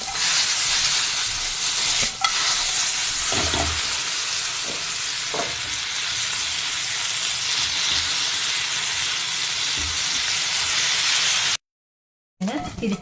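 Dal fry cooking in a hot pan, a loud continuous sizzle and hiss with occasional stirring knocks, close up, cut off by a short silent gap near the end.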